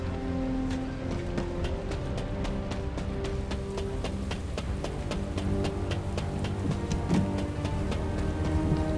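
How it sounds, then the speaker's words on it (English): Heavy rain pours in the video game The First Descendant, a steady dense hiss with many sharp droplet ticks and faint low rumbles beneath, continuous for the whole stretch with no talk. "This rain is really coming down."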